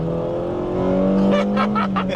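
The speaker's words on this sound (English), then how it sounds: "Let's go to second gear and see if we can see if our VTEC is working." A 2000 Honda Civic Si with 87K miles and a single-cam VTEC engine revs hard in second gear. The engine note climbs steadily in pitch and grows louder and harsher as it pulls into VTEC, heard close and loud.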